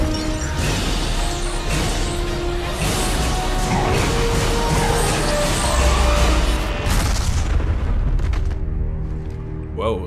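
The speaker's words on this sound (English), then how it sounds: "it was like an energy explosion" A burst of energy explodes in the video game Mass Effect 2, a dense booming crash with swooshing blasts and gunfire-like crackle that fill the scene loudly and continuously before tailing off at the end.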